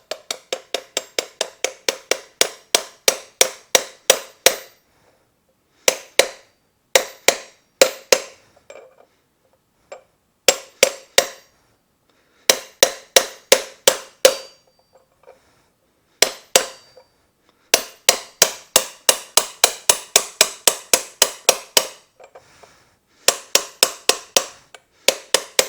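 A socket being hammered against a BMW R1200RT front wheel bearing to seat it, sharp metallic taps landing in fast rhythmic bursts separated by short pauses, loud and close with no talking.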